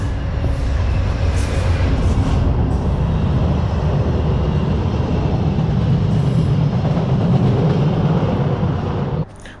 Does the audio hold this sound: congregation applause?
no